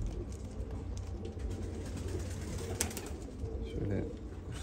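Milk-white patched Adana pigeons coo softly, low rolling calls over a steady background hum, with a brief louder coo near the end.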